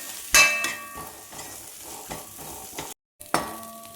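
A spoon stirs turmeric powder through a green peas kuruma in a pan, with a loud scraping clatter at the start, softer stirring scrapes and a light sizzle, a brief silent gap, then another clink of the spoon.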